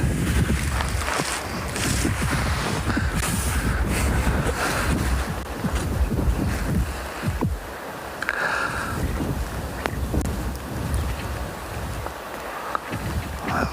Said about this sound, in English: the wind is just unfortunately is coming through quite a bit here at the dam